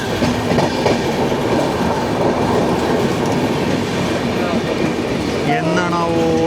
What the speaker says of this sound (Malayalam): അത്ര വിവേകമില്ലാതെ വിവേക് എക്സ്പ്രസ് ആണ് വരുന്നത്.